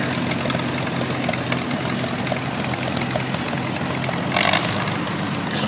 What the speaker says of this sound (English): Here's a McCormick Farmall Cub from 1953.